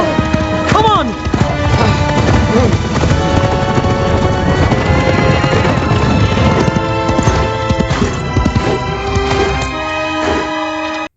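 Horse galloping in an animated Lord of the Rings battle film, dense hooves under loud orchestral music and clashing effects, continuous and close throughout.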